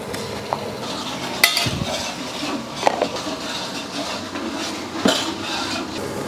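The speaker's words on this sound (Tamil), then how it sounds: "ஒரு ரெண்டரை ஸ்பூன் அளவுக்கு இஞ்சி பூண்டு பேஸ்ட் போட்டுடலாம்" Ginger-garlic paste sizzles in a big pot of rava kichadi cooked in bulk while a metal spoon stirs it, with a steady frying hiss broken by several sharp scraping clinks against the pot.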